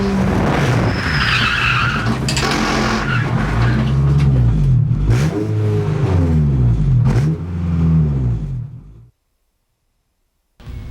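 A racing car in a PlayStation driving game skids and revs hard. Repeated tire squeals and rising engine sweeps run for about nine seconds, all loud, before a sudden cut to near silence.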